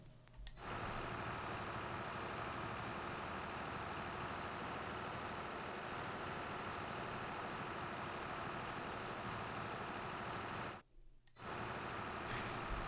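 Steady drone of a tractor engine in Farming Simulator 22 on the Elmcreek map, a constant close rumble that cuts out briefly near the end before resuming.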